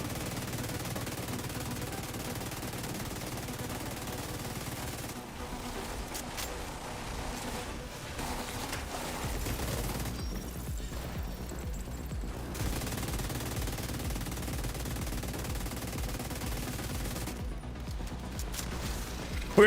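A gun magazine is emptied in The Division 2, the rapid automatic fire rattling in extended bursts amid a dense mix of game sounds, with brief pauses and quieter stretches between volleys.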